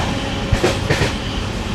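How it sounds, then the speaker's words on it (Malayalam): The Coimbatore–Tirupati Intercity Express 22616, running with LHB coaches, at Samalpatti railway station: a loud, continuous close rumble with rhythmic wheel-on-rail clatter and no voices. "ട്രെയിനിൻ്റെ 4ാമത്തെ സ്റ്റോപ്പായ സാമൽപട്ടി റെയിൽവേ സ്റ്റേഷനിലാണ് എത്തിയിട്ടുള്ളത്"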